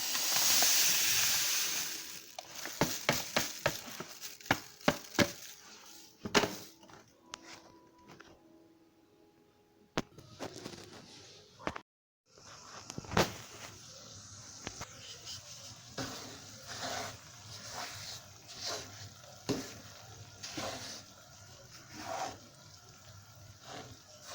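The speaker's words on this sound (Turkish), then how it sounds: "Yağıyla irmik birbirine karışana kadar her tarafını karıştırdım arkadaşlar" Semolina being stirred into hot oil in a pan for Turkish semolina helva, a soft steady sizzle and hiss with repeated scraping clicks of the spoon, faint and close, with no talk.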